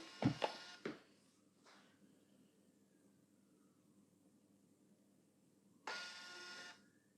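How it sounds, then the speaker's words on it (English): A small label printer feeds out labels in a quiet kitchen, giving a few short clicks and mechanical bursts at the start and a brief whirring run of printing near the end. "we're going to be printing. We're printing."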